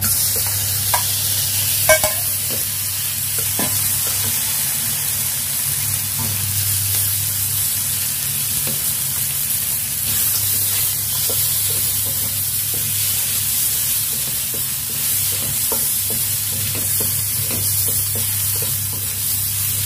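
Ginger and black soybeans stir-fry in a hot pan for a Hong Kong-style bitter melon and chicken wing dish. A constant close sizzle and hiss runs throughout, with scattered scrapes and clicks of stirring and no talk.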